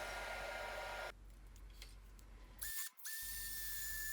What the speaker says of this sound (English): And some power sanding.